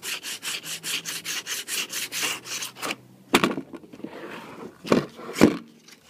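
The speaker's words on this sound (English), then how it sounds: "start sanding this down." Steady, rapid sanding strokes scrape the paint on a plastic Magpul PMAG magazine, then stop, followed by a few scattered scrapes and knocks nearby.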